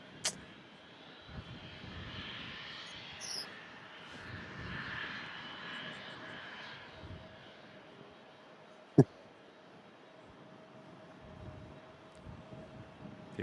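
Ryanair Boeing 737 at Manchester Airport, its engines a faint, distant steady rumble with a low hum, one sharp click partway through.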